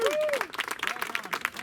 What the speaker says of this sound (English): applause for Ilona